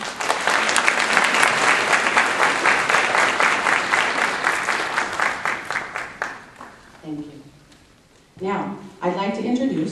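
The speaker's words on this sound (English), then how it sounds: "Can we just give them a round of applause?" Graduation ceremony audience applauding families and friends: a loud, dense wash of clapping from a large crowd lasting several seconds before dying away into a speaker's voice.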